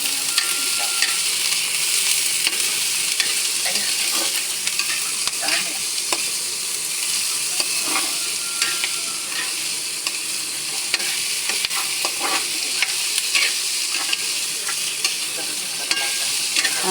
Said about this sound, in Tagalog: ipiprito po natin ng konti yung patatas